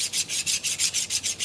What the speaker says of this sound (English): I always take a file and just scrub the sides